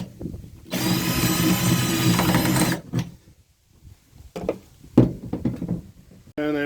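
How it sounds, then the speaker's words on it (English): Power drill boring bolt holes for a track car part, a two-second burst of high whirring close up, followed by quieter knocks and handling sounds and a brief restart at the end. "I just drilled 2 guide holes, and then we'll go ahead and drill"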